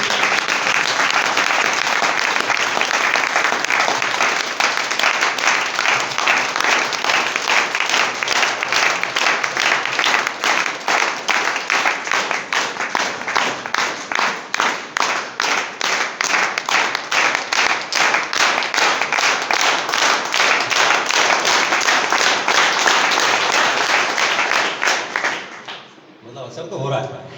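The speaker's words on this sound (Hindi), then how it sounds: "ताली बजाएं" Long, sustained applause from a seminar audience at a business-plan motivational talk, many hands clapping in a steady dense rhythm for nearly half a minute before cutting off abruptly near the end.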